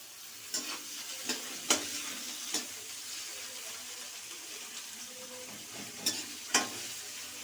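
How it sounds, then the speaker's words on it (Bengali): Carrots fry in a pan for vegetable fried rice with a constant soft sizzle, punctuated by a handful of crisp spatula clicks and scrapes at irregular intervals. "এবার গাজর ভাজবো।"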